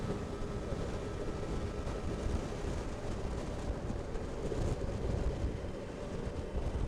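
A Yamaha FZ6 motorcycle engine runs steadily at about 3,000 revs while riding at roughly 37 mph, giving a continuous buzzy drone mixed with wind rush, loud and unbroken throughout.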